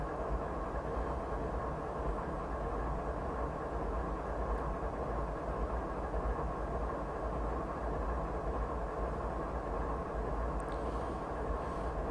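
A Canadian Pacific ES44AC locomotive hauls its train up a ridge in Train Simulator 2015, its diesel drone a steady, fairly quiet low rumble that holds even throughout, with no talk.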